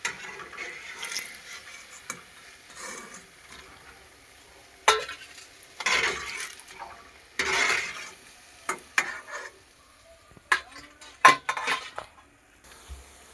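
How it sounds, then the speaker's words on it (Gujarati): Potato vada fritters fry in hot oil with a soft sizzle. Sharp metal clinks and scrapes of a utensil against the pan break in at irregular moments. "હવે આપણા ગોટા ફ્રાય થઈ ગયા છે."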